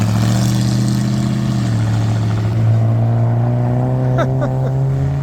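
A Nissan GT-R revs and runs laps near a car show, its engine a steady loud drone with rising revs and a few quick throttle blips near the end.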